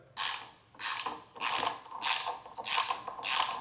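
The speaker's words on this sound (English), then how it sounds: "Now go ahead and put our nut on the bottom side back on and tighten it up." A hand ratchet tightens the nut on a CFMOTO 300NK motorcycle brake lever bolt, giving six crisp, evenly spaced bursts of close, rapid clicking with short pauses between strokes and no voices.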